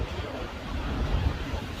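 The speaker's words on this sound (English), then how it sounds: "Wind killing my head." Wind buffeting a microphone outdoors at a fuel station with diesel pumps, a steady low rumbling roar with gusty swells, loudest around the middle, with no voices.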